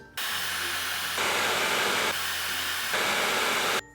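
Dyson Supersonic or GHD Air hair dryer blows with a steady, loud, close whooshing hiss, shifting in pitch and strength between settings in two stages before cutting off.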